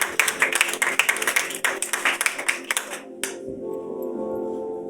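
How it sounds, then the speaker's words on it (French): A church congregation claps together in a burst of dense, fast hand claps for about three seconds, then the clapping stops abruptly and a low sustained musical tone lingers. "Acclamez pour vous-même."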